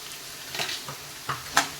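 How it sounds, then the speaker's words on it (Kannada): Ginger garlic paste fries in hot oil for fried rice, a soft steady sizzle broken by several brief scraping stir strokes, the last one the sharpest. "ಇದು ಕೂಡ ಎಣ್ಣೆಯಲ್ಲಿ ಚೆನ್ನಾಗಿ ಫ್ರೈ ಮಾಡ್ಕೊಂಡು"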